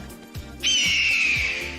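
A hawk cry sound effect triggered from a stream deck: one loud, sustained high screech that starts abruptly partway in and holds steady until the end.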